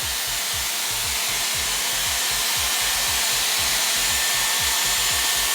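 A Dyson Airwrap hair styler with round brush blows on high heat, a loud, close, steady rush of air with a rapid fluttering pulse underneath, constant throughout with no talking.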